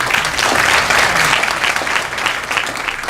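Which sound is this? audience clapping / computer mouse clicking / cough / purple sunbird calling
audience clapping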